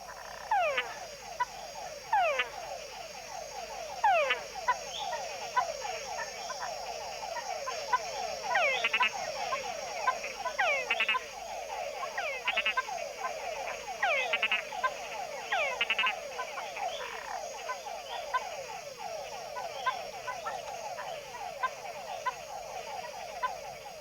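Mud-puddle frogs call from a pond on a moonlit night, a dense, continuous chorus of rapid, rhythmic croaking pulses from many individuals, steady and moderately near throughout with no voices.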